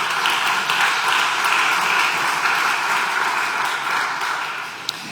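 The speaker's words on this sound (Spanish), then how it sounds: "Denle un aplauso al Señor" A church congregation claps at length after a pastor's sermon, a dense, even wash of applause throughout that eases slightly toward the end, with no talk over it.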